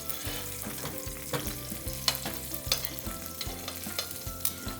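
Salmon fries skin-side down in hot oil in a pan, giving a continuous close sizzle with scattered pops and spatters and no talking.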